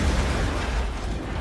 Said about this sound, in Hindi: उससे एक जोरदार धमाका हुआ।